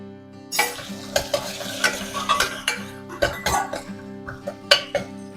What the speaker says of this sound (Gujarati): આપણે મસાલાને સાતળવાના છે, બાળવાના નથી.